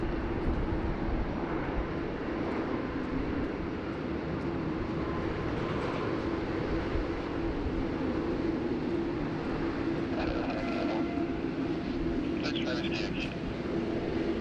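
An airliner at Sydney Airport beginning to taxi, a steady low jet engine hum and rumble heard from a distance, with someone talking over it throughout.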